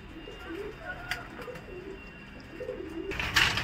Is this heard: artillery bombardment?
no